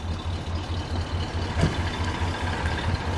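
A 1966 Cadillac Eldorado engine idles steadily with a low, rhythmic pulsing chug and a brief louder burst partway through, close by.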